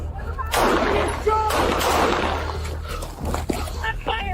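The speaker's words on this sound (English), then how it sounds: "Shot fired! Take shots." Gunshots ring out during a police encounter, sharp cracks among loud shouting voices and a barking dog, close and chaotic.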